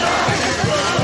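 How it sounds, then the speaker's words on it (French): A huge crowd packing Tshikapa airport in Kasai, a dense continuous roar of many voices and shouts, loud and close, with rhythmic pulses like chanting. "C'est une foule impressionnante"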